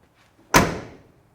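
A car door on a 1969 Chevrolet Chevelle SS is shut once with a single solid thunk, close by, and the sound fades quickly with no voices.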